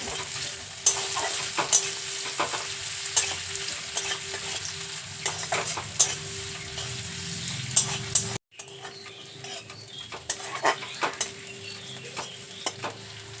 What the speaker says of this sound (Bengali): কেটে রাখা পেঁয়াজগুলো তেলের মধ্যে দিয়ে হালকা লাল করে ভেজে নেব